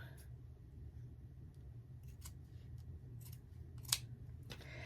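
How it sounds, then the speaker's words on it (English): Scissors snipping along drawn lines through quilting fabric for a tote bag lining, a few faint, close, crisp cuts spaced apart over a quiet low room hum, one cut louder than the rest. "just going to take my scissors and I'm just going to cut like that"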